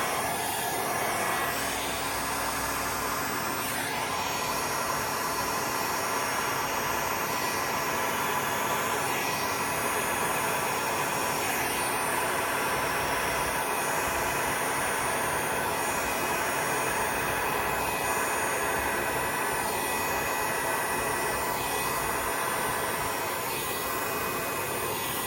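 A heat gun blowing hot air over gold paste, a continuous loud rushing whoosh with a steady motor whine that holds without pause throughout.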